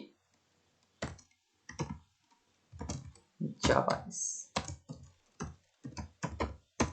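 Typing on a computer keyboard in irregular bursts of close, crisp key clicks separated by short pauses, with no talking over them.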